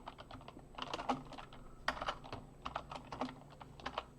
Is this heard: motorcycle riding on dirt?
no